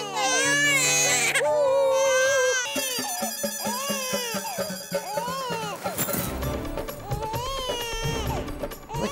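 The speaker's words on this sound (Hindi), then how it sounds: "ये तो बच्चे के रोने की आवाज है।" An infant cries loudly and continuously in wailing bursts close by, with adult voices trying to soothe it in the background.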